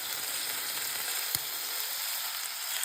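Bacon strips frying in a skillet give a continuous, even crackling sizzle close up, with a single sharp pop partway through and no voices.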